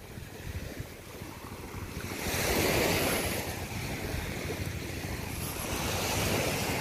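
Waves wash onto a beach on Flores Island, a broad rushing surf that swells louder midway and stays steady, mixed with gusty wind noise against the microphone.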